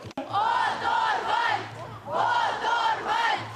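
Fans at a free concert in the capital shout in rhythmic chanted bursts as the band comes on stage, loud, massed voices rising and falling in repeated waves.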